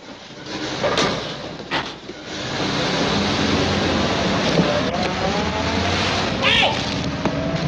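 A car starts up and pulls away with a steady, fairly loud engine rumble that holds for several seconds after a few brief knocks and door-like clunks.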